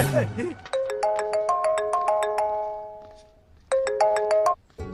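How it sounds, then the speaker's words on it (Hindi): A mobile phone's incoming-call ringtone plays a bright, repeating melodic chime in two phrases, loud and close, after a brief murmur of voices at the start. "आपको किसी का फोन आ रहा है।"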